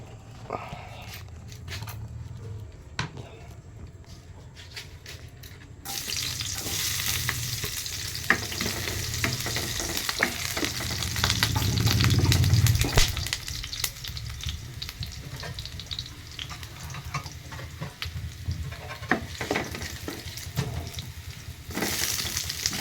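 Chicken liver and gizzard adobo sizzles and crackles in hot oil with garlic and onion, a steady frying hiss punctuated by stirring clatter and a louder surge as the meat hits the pan.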